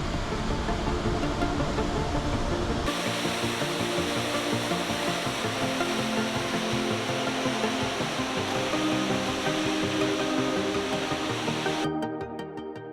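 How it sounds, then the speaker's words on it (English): Waterfall in Iceland with a steady, loud broadband roar of falling water that runs continuously and close throughout, ending with a brief change near the end. "We see the many waterfalls that Iceland has to offer."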